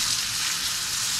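Steak basted with melted butter, garlic and rosemary in a pan sizzles with a steady, loud, close hiss through the whole short moment.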